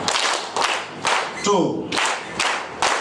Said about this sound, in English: I want to give them 3 claps